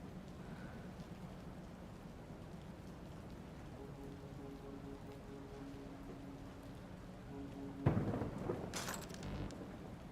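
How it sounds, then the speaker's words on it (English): Steady rain falling in a video game, a soft constant patter, with a brief louder thunder crack near the end. "The sound of the thunder resonates a couple of seconds after the lightning strikes."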